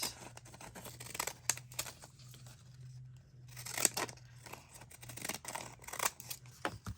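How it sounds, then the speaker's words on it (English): Repeated scissor snips cutting through paper, close and crisp, in short bursts with brief pauses between cuts. "I mean the decal scissors again."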